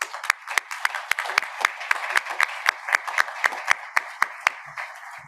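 A small audience at a workshop applauds interpreters with sparse, distinct claps. The individual hand claps fall in a loose, fairly even rhythm for about five seconds, then taper off.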